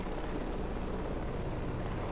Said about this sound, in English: the helicopter is pitching and yawing based on the camera position